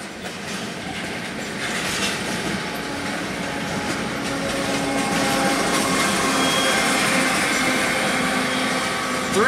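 A CN freight train rolls steadily past up close, with a distributed-power locomotive in the consist, its continuous wheel rumble and rail clatter growing slightly louder, with a faint squeal at the end.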